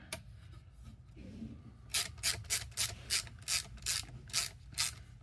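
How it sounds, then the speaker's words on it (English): A number 1 Phillips screwdriver driving plastic screws into a plastic mount: about ten close, crisp ratcheting clicks in a steady rhythm after a quiet pause. "It should be a number 1 Phillips head screwdriver to run them in with."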